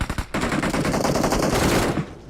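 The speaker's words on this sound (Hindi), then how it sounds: "अब दूर से भी गोली चल रही है" Rapid automatic gunfire from the BGMI battle royale game, a loud continuous burst of shots for about two seconds before cutting off, with a brief pause near the start.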